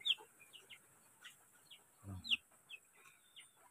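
Ten Rhode Island brown chicks peep in short, high, repeated chirps, fairly faint and unevenly spaced, with a soft low thump partway through.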